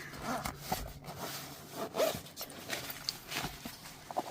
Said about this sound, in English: It's kind of hard to unzip it, but let's see if I can do it.